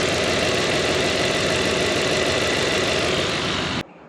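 An off-road hot rod engine runs with no hood, a loud, close, rough steady idle with busy mechanical clatter that cuts off abruptly near the end.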